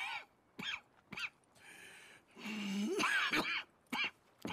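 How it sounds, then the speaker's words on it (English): Arthur Morgan, a character in the video game Red Dead Redemption 2, coughs from tuberculosis: several harsh, hacking bursts broken by short pauses, with a rough throaty stretch in the middle, heard close and up front. "That's quite a cough."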